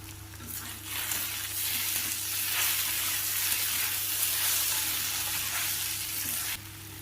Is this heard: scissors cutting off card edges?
no